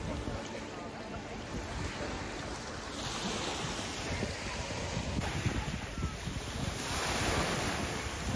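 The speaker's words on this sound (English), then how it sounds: "Relaxing on the beach in Monterosso al Mare." Sea waves wash steadily onto the beach at Monterosso al Mare, a loud, continuous surf roar mixed with gusty wind buffeting the microphone, swelling slightly toward the end.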